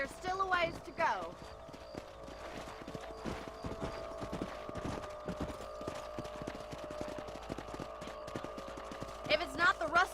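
Horses' hooves clip-clop at a steady walking rhythm as riders mount up on a Wild West ranch in Red Dead Redemption, with a brief whinny at the start, low game music and someone talking over it.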